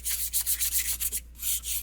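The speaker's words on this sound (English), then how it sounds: "let's sand these down a little bit more" Wooden guitar edges being sanded by hand with sandpaper, quick rhythmic rasping strokes close up with a brief pause near the middle.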